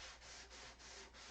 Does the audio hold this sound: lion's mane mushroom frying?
no